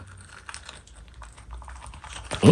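Crunching, scraping handling of a 1970s plaster Paddington figure ends in a sharp, loud crack as its head is ripped off.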